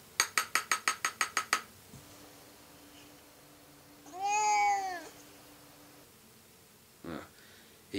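A cat in a 1964 film gives one drawn-out meow in the middle, clear against quiet, after a quick run of bright chiming notes at the start and a soft tone that holds steady.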